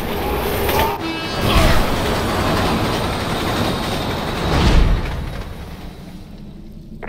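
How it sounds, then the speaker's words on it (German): A train in the Resident Evil 6 video game rushes past loud and near, a dense rumble with clattering wheels and metallic screeches that swell and then fade. "Der Zug kommt!"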